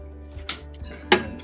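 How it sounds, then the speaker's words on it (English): A utensil scrapes and knocks against the sides of a mixing bowl of vanilla cake batter, two distinct clattering scrapes about half a second apart, close and clear with a low hum beneath. "I'm gonna scrape down the sides"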